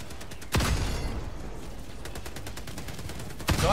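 Autocannon fire in a video game, a heavy opening blast followed by a rapid rhythmic string of shots, with another loud burst near the end.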